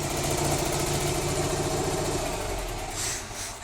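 A Cub Cadet 682 lawn tractor engine with a custom stack exhaust idles steadily with a deep, throaty rumble and a slight rhythmic pulse, close and continuous throughout.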